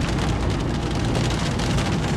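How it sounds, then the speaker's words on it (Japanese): A sudden heavy downpour pours down in a dense, steady hiss and patter, loud and unbroken throughout, with no voices. "めっちゃ降ってくるやん、これ。"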